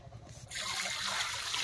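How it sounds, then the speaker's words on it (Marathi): Water trickling and splashing in a pot while rice is washed, starting abruptly after a quiet moment and continuing as a soft close pour. "तांदूळ धुत."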